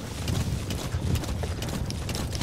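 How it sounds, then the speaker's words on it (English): Horse hooves clip-clop in the video game Metal Gear Solid V, a quick muffled galloping rhythm heard close over a dense, rumbling game soundscape, with no talk. "So yeah, this is mainly me on a horse right now."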